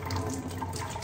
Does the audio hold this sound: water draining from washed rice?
yes